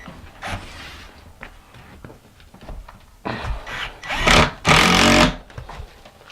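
Cement board screws are sunk into cement board with a power driver, in a few short whirring bursts that get louder and longer toward the end, close up, separated by quiet handling noises.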